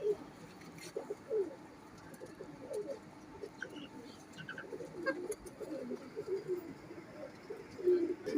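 Sialkoti pigeons, plain-headed and short-tailed, coo in a low, throaty repeating pattern at close range, with faint chirps and outdoor ambience around them.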